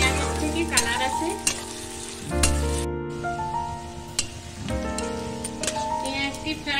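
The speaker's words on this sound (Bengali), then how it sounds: "মিডিয়াম ফ্লেমের মধ্যে ফ্রাই করে নেব যতক্ষণ না পেঁয়াজের থেকে কালার আসে।" Onions fry on a medium flame in a pan for Bengali-style matar paneer, a loud continuous sizzle broken by stirring scrapes and a brief drop before the frying noise resumes.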